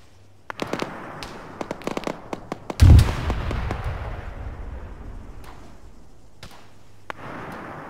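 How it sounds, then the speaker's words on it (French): Gunfire and explosions in the military video game ArmA 3: scattered sharp cracks, then one heavy boom with a long rumbling decay, followed by a few more distant shots. "J'ai l'impression qu'il y a un autre qui tire."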